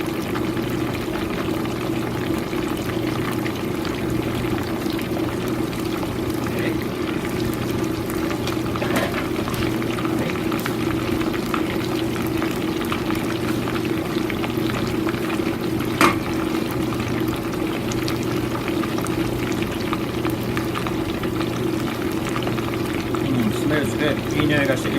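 Chicken karaage deep-frying in hot oil gives a steady, dense bubbling hiss that runs unbroken throughout, with a voice present in the background.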